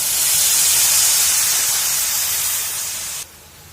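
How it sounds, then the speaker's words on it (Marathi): Jaggery with a little water heats in a wok to make syrup for puffed-rice laddus. A loud, steady hiss fills the space and cuts off abruptly just before the end. "कढईमध्ये गुळ टाकायचा आणि अगदी थोडेसे पाणी वतायचे"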